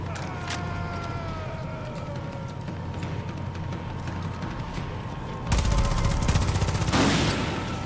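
Rifle gunfire from the video game Far Cry 5 comes as a rapid string of sharp, loud shots, then swells into a dense, heavy burst of fire near the end over a constant background hum.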